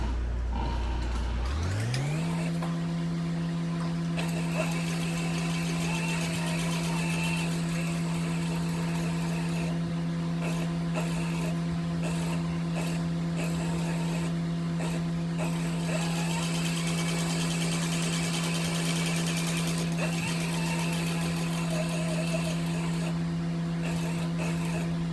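A sewing machine stitches a sling bag, starting up after a brief pause into a steady, even motor whir that runs continuously close to the microphone.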